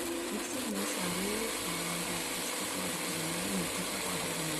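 A kitchen mixer grinder running at full speed while grinding a powder for fenugreek laddu, a loud continuous motor whine with a wavering pitch and no pauses.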